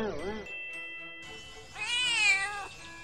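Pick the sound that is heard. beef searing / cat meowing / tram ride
cat meowing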